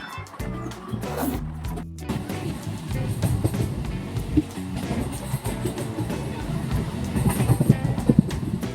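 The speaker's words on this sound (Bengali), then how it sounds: "এই প্যাসেঞ্জার ট্রেনটি ছাড়ার সময় ছিল বারোটা পাঁচ আর এখন ট্রেনটি আসানসোল থেকে ছাড়লো বারোটা চব্বিশে" A passenger train leaving Asansol gives off a continuous low rumble with intermittent rattling and clatter, moderately loud throughout.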